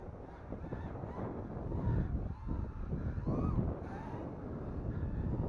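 Wind gusts buffet the microphone outdoors while an RC model is flown, a rough, fluctuating rumble with a whining motor tone rising and falling over it.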